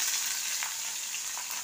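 One large onion sizzles in hot mustard oil, a steady close hiss and crackle with no talking.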